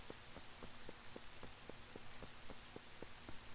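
Steady rain hisses across a surface in Zelda: Twilight Princess, with a regular ticking pulse repeating about every third of a second beneath the dense wash of drops.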